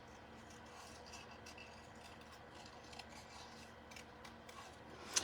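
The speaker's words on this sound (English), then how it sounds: "I know most of you know how to fussy cut" Scissors fussy cutting around printed flower shapes in paper, a soft, steady rasping snip that runs close and quiet throughout, ending in a slightly sharper cut.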